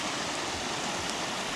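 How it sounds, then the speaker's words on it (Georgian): Shallow river water rushing steadily as a car fords the Chichakei stream bed in Kakheti, Georgia, a continuous broadband wash of flowing water with no voices. "დავიწყეთ ჭიჭაკეის წყლის გადაკვეთა"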